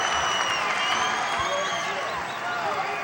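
Crowd cheering at the 1984 NYSPHSAA high school wrestling championship finals, a loud continuous roar of shouts and whoops with clapping underneath, steady across the clip.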